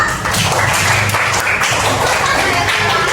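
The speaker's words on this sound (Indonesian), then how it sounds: "sini tepuk tangan dulu buat Bima." A class of students applauds their classmate Bima in a fourth-grade lesson, a loud, continuous burst of clapping that holds steady for about three seconds.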